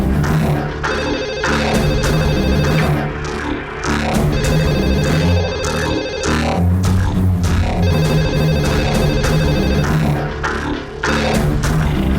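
A telephone ringtone repeats in bursts over a steady background of music in a Tamil television serial scene, loud and close, with no talking.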